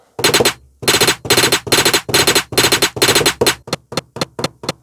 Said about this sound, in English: This is this very attacky sound.